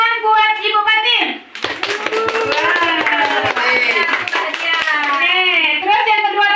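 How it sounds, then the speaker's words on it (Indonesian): A classroom group of children and a teacher claps together for a classmate in a quick, dense burst of hand claps, with voices calling out over and after the applause. "Tepuk tangan buat Ibu Patin."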